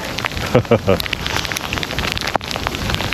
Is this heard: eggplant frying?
no